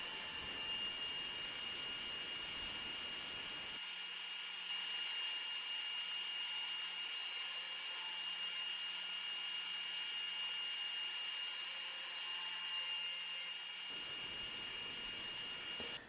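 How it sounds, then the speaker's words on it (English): A drill boring an axle hole through wood for a thread spool holder, running as a steady continuous whine for most of the stretch, with the motor tone shifting partway through. "here I'm drilling for the axle or whatever you want to call it that goes through there that'll hold the thread spool"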